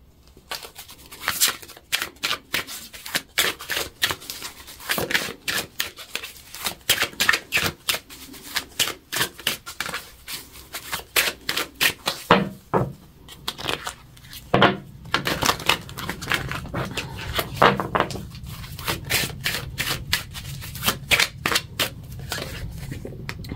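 A tarot card deck is shuffled by hand over and over, crisp riffling card flicks in quick irregular bursts, close and fairly loud, with a soft steady rustle building in the later part.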